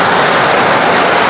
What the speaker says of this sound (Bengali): এই যে পোলাপাইনে বৃষ্টিতে ভিজতেছে